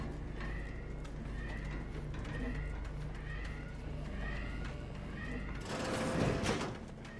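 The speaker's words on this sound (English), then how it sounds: "Maybe does the alarm sound faintly like an angry cat?" An alarm in the video game Outer Worlds 2 gives repeated yowling, cat-like wails that pulse in a steady rhythm over a low background hum, ending in a louder harsh burst near the end.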